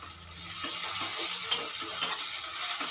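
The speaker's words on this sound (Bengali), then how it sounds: "রসুন বাটা ও টমেটোটা খুব ভালো করে কষিয়ে নেবো" Ginger garlic paste and tomato sizzle in a hot pan while a spoon stirs them, a steady frying hiss broken by small scraping and clicking strokes.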